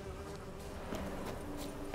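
Insects buzz in The Witcher 3, a low droning hum that hovers and wavers over a faint ambient bed, quiet and continuous, with no voices.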